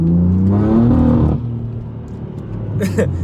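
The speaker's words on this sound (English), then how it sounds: "Look what I mean by the acceleration." A 2015 BMW M4 with 425 horsepower accelerates hard, its engine note rising in a loud, close surge for about a second. It then drops to a lower, steadier drone with a brief rattle at the end.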